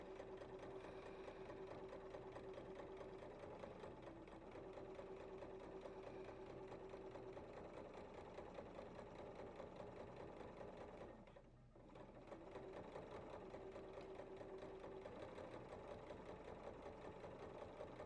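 A sewing machine stitches watermelon fabric, running quietly and continuously with a fast even whir, pausing briefly partway before starting up again.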